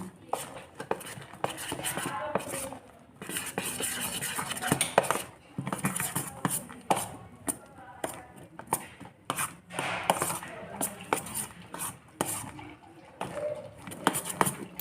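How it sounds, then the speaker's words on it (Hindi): A spoon stirs moonglet batter of moong lentils with turmeric and red chili in a bowl, making quick irregular clinks and scrapes against the bowl, close and moderately loud. "अब इसे मिक्स कर लेंगे।"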